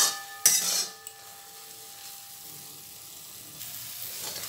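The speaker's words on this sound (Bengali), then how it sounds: "সব মশলাগুলো এবার কষিয়ে নেব।" Spices with chilli powder are being sautéed in a pan at home, with a soft steady sizzle, a sharp clatter of a spoon against the pan early on, and faint stirring scrapes.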